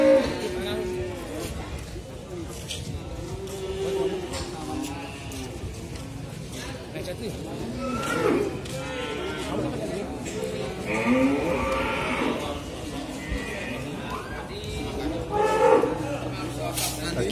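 Cattle, including a heavy Simmental, moo repeatedly amid a busy livestock market din at Grabag animal market in Magelang, Indonesia, with people talking nearby throughout and other animal calls mixed in.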